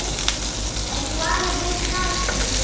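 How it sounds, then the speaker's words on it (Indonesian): A little butter dropped into a hot wok sizzles and crackles steadily and loudly up close, a dense continuous hiss with no pauses. "Gua kasih mentega dikit."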